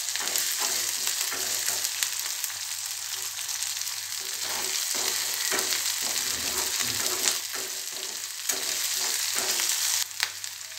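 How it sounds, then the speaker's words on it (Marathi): Onion and green chili paste sizzling steadily in a pan for cabbage sabzi, with repeated scraping stirs of a spoon cutting through the continuous close frying hiss. "कांदा थोडासा गुलाबी झाल्यानंतर आपण हिरवी मिरचीची पेस्ट टाकून घेऊयात, छान अशी परतवून घेऊयात।"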